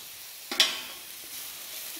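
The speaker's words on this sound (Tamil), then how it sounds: "இந்த காய்கள்லாம் சேர்த்து நல்லா வதக்கிடுங்க." Vegetables with ginger-garlic paste sizzle and stir in a pan, with a sharp clatter of utensil on metal, then a steady soft frying hiss carrying on alone.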